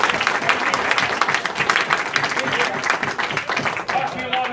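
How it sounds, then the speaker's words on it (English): Sustained audience applause, a dense, even wash of clapping from a crowd honoring a candy company owner, steady and loud throughout with faint voices underneath. "give Gary a round of applause for what he's done with Melville Candy"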